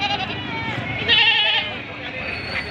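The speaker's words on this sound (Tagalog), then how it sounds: "Napakarami po ditong kambing." Several goats bleat close by amid a busy crowd at a Philippine livestock market, their wavering calls overlapping with background chatter.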